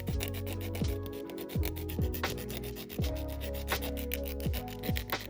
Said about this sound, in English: I'm going to use my fine grit sanding band